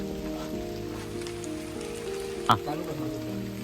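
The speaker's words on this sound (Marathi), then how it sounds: "तुम्ही बघता आपल्या वरती कसा पाऊस पडतोय" Rain patters steadily on a cover overhead during heavy Konkan rainfall at an outdoor cooking spot, a soft continuous drumming with a humming background tone and one brief sharp knock midway; fairly quiet.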